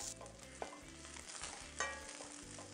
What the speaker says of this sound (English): You want to cook the garlic for around 2 minutes or so until they're golden brown. Just keep on stirring so they won't burn.